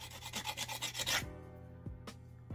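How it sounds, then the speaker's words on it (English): A brick rubbed back and forth against a painted wooden frame to wear off paint, about seven quick rasping strokes in a steady rhythm, then a few sparse knocks and scrapes. "I have this brick, or you can use any kind of sanding device you have, and I'm gonna try to take some paint off to age it a little bit"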